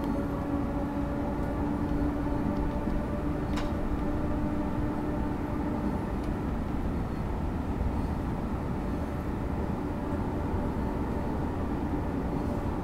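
A Railpool BR 193 Siemens freight locomotive runs in Train Sim World 4, giving a steady, moderately loud rumble with a faint hum throughout and no speech.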